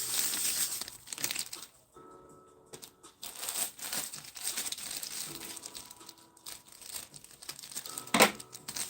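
Plastic bags of laundry detergent product crinkle and tear as they are opened, followed by the soft patter of the contents pouring into a container, close up with no talking.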